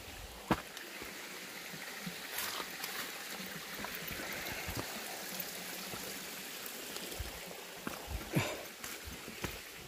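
River flowing near a coastal village, a steady broadband wash of moving water with occasional brief splashes and knocks, no talking.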